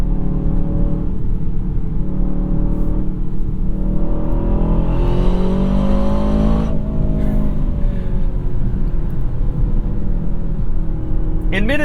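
A 2024 Aston Martin DBX 707 sports SUV engine rumbles loud and close, then revs up in a rising sweep and settles back to a deep, steady drone, with a brief sharp blip near the end.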